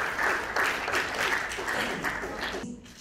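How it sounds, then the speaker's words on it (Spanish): An audience claps at a National Telecommunications Day event after a speaker's talk, a dense round of applause that holds steady and then cuts off abruptly near the end. "Un aplauso"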